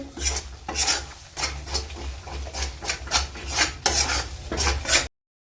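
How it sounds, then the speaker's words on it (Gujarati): Ghee and gram flour scraped and stirred in a pan with a spoon, giving steady rhythmic rasping strokes and faint sizzling, close and fairly loud, with no talk. "આ રીતે હલાવતા જવાનું છે અને ઘીમાં લોટને આપણે શેકી લેવાનો છે"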